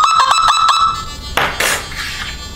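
A Nokta Makro Simplex+ metal detector in metal mode over a gold bracelet emits a steady electronic tone that pulses a few times, then cuts off, followed by soft clinks and rustling handling noises.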